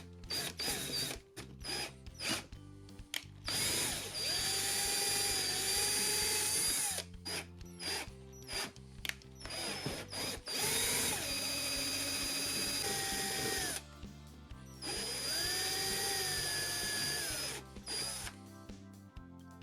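A drill with a larger bit runs in long stretches into the plastic of a 2004-2008 Ford F-150 gas lid housing, its pitch sagging and rising as the bit bites, broken by brief pauses and clicking.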